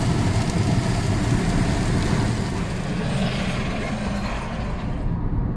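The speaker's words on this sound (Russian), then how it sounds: "Такой дождь сильный начался." Steady, dense roar of heavy rain close by, heard while driving on a road, loud and continuous, with a broadband wash that could also carry passing road noise.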